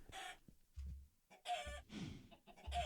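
Chickens cluck in a Minecraft StoneBlock 2 modpack world: short bursts of clucking calls in irregular clusters, close and fairly loud, with no one talking.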